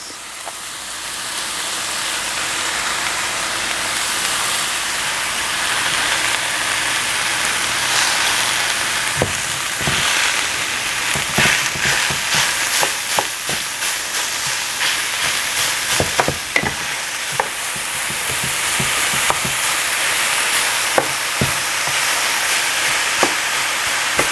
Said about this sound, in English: now I'm going to add my ground beef to this.